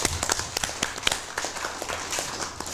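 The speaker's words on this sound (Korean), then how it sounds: "박수를 한번 시작합시다" Audience at an academic seminar applauding, scattered sharp hand claps with uneven rhythm from a modest crowd, fairly close and moderately loud, with no talking over them.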